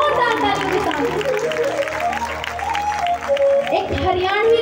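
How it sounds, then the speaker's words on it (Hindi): Audience applause at a Hindi-language gathering, a sustained wash of claps rising loud and steady, mixed with crowd noise and children's voices throughout. "जो जो अपनी माँ से प्रेम करते हैं जोरदार ताली बजाओ।"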